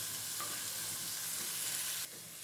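Steady, bright sizzling of chopped cluster beans frying in hot oil for poriyal, close and continuous, with no voices.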